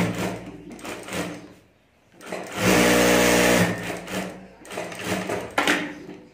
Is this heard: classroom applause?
no